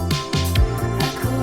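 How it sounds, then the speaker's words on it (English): Bass guitar run through a Slate bass amp simulator on its bread and butter setting, a short burst of several rhythmic low notes with a rounded tone over a busy backing. "I've got it set to the bread and butter bass amp sim"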